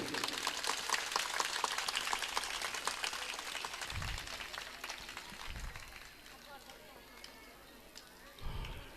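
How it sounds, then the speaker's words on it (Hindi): A school audience claps in a dense, sustained burst that gradually thins out, with a few low thumps toward the end. "जिन्होंने ले लिए हैं उनके लिए तो तालियां बजाएं ना खुल के।"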